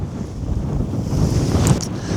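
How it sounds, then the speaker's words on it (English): Strong wind gusting on a wild south coast fishing spot, a loud, constant roar buffeting the microphone and swelling midway, with no voices. "It is so windy, man."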